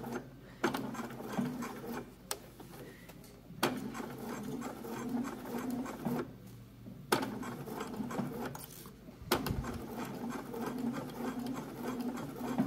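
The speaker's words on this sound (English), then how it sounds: "I'm really just stitching in the ditch the best as I can" A sewing machine stitches in the ditch along a pajama seam, starting at the back shoulder: repeated bursts of rapid mechanical whirring separated by short pauses, close and fairly quiet, with no voices.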